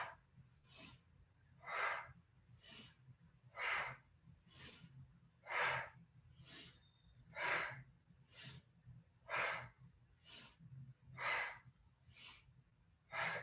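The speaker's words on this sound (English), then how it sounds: "Inhale, exhale." Deep, rhythmic breathing during standing warm-up twists, about a dozen evenly spaced breathy inhales and exhales, close and clear over a faint low hum.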